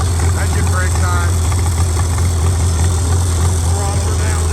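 An antique tractor engine rumbles steadily while engine braking on a country road on the way to a tractor pull, a loud, continuous low drone with rough mechanical clatter over it and no break.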